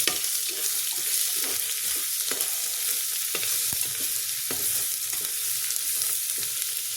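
Ginger and garlic paste frying in a pan, a steady close sizzle with occasional scraping stirs of a spoon across the pan, no voices over it.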